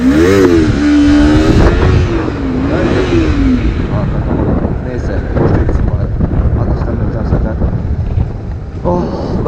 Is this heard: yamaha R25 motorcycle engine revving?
yes